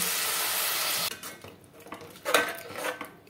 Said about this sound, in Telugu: ఇప్పుడు దీంట్లోకి 1/2 గ్లాస్ ఆఫ్ వాటర్ యాడ్ చేస్తున్నాను.